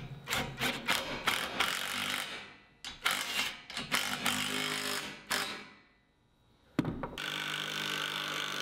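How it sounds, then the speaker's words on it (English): Lag screws are driven into pre-drilled holes in an 8x8 wooden beam, heard as a series of close, grinding, ratcheting bursts from the power driver, separated by short pauses and one longer silence before a final burst. "I centered the railing on the 8x8 wooden beam at the end, and then sunk some lag screws into it."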